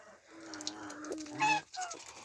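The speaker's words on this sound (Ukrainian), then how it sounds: "Червона ця молоденька курочка." A young red hen clucks softly near at hand, a few short low calls with faint farmyard sounds around and no talking.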